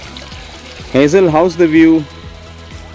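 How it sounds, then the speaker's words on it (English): A water stream flows through a wadi near Ras al-Khaimah in the UAE, its steady wash running beneath a person speaking close by. "everywhere you can see there is a water stream, and it makes the morning more pleasant with its sound"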